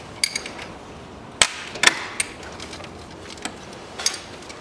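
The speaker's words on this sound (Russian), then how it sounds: "Откручиваем вот этот кронштейн. Также здесь две гайки." Wrenching loose a bracket and two nuts on the engine of a 2007 Daewoo Matiz 0.8 automatic: sparse, quiet metallic clicks and taps at irregular intervals, with a couple of sharper knocks in between, and no talking.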